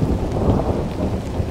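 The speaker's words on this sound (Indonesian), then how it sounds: "Tak berselang lama, hujan turun mengguyur." A heavy rain shower pours steadily in a mountain forest at the foot of Mount Binaya, with deep rolling thunder rumbling underneath the dense, continuous downpour throughout.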